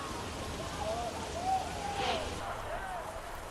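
A steady, dense hiss of heavy monsoon rain fills the whole stretch during flooding in Thane district, with faint voices underneath.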